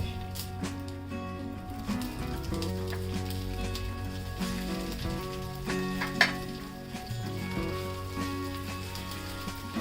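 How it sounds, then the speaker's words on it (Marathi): A piece of methi rava dhokla shallow-fries in a little oil with sesame seeds in a pan, a soft, steady sizzle heard beneath prominent background music, with one sharp clack midway. "दोन्ही साईडने आपण छान असे खरपूस फ्राय करून घेऊया"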